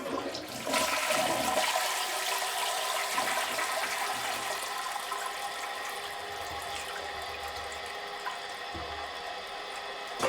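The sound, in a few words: air drain blaster unclogging a toilet, gurgling water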